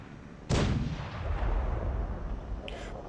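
Heavy gunship cannon in the mobile video game Zombie Gunship Survival fires a loud booming blast that decays into a rumbling tail, with a faint second report near the end; no talking.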